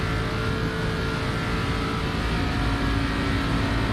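A race car engine in the iRacing sim drones as a steady, dense roar with no clear revving or pass-by, holding at an even, moderate loudness throughout.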